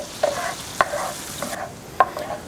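Sweet Vidalia onion and garlic softening in a pan, a soft steady sizzle broken by three sharp utensil scrapes against the pan, close by, with no talking.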